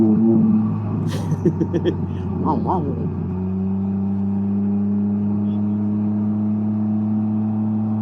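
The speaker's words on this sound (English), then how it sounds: "I'm downshifting." A Can-Am Ryker three-wheeled motorcycle engine downshifts on a winding Texas road, its revs blipping and then settling into a steady low drone with wind rumble, and a voice talks briefly early on.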